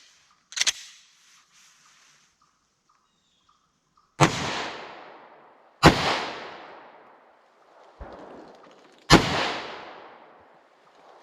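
A Glock 41 pistol fitted with a 10mm conversion fires single shots outdoors: five loud, sharp reports spaced a second or more apart, each trailing off in a brief echo, with no talk.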